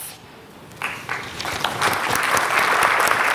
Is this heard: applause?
yes